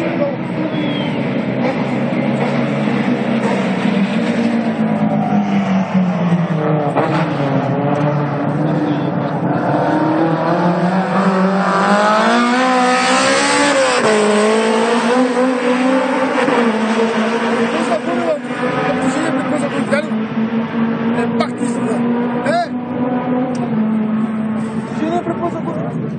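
A drift car on a race track in Ruse in 2013, engine loud and continuous with rising and falling revs, wavering pitch and braking, close by throughout, with people talking over it.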